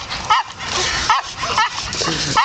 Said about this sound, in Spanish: Así con mi perrito. Jugando.